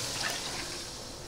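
Hot water poured into a pot of Gobindobhog rice khichuri with fried moong dal and turmeric, a steady close splashing rush lasting a moment without speech.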